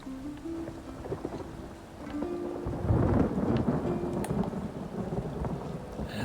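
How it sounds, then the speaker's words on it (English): Steady rain and rolling thunder in the video game ESO Morrowind, a continuous dense hiss with low rumbling that swells partway through and stays heavy to the end, with no voices over it. "It has been nothing but thunderstorms today in Morrowind."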